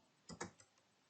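A few quiet keystrokes tap on a computer keyboard, two quick clicks followed by softer fading taps, close but faint.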